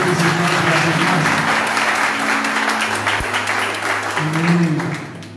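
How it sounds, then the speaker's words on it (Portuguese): A church congregation applauds during a worship service in Garanhuns, steady dense clapping that fills the room and holds loud throughout, with a low voice or hum running beneath it and fading slightly near the end. "Vamos aplaudir a Jesus pela vida dos irmãos"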